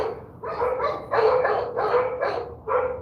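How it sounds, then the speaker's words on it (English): Several dogs barking in a run of loud, close bursts, some overlapping, with brief pauses between volleys and no talk over them. "We have a lot of dog activity all of a sudden."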